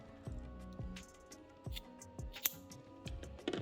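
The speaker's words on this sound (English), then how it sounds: "Trim those ends down" Scissors snip through the cut ends of flat elastic stitched together on an upcycled top, with about seven crisp, evenly spaced snips sounding close and alone.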